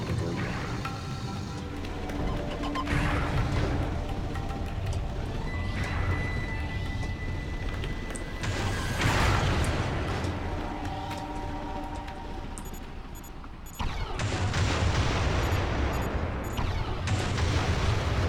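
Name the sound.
mines exploding in the video game Beyond Good and Evil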